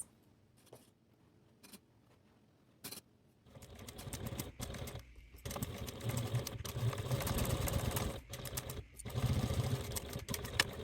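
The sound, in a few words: sewing machine sewing project bag seam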